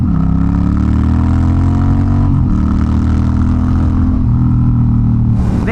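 A loud, throaty Honda Rebel 1100 parallel-twin engine with no muffler drones steadily up close on the highway, its pitch rising and briefly dipping between gear shifts.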